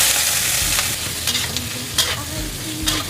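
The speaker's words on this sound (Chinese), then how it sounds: "把這個油脂給它煸出來" Fatty slices of Chinese cured pork sizzle in oil in a wok, rendering their fat, with a constant frying hiss broken by sharp scraping stirs of the spatula at irregular intervals.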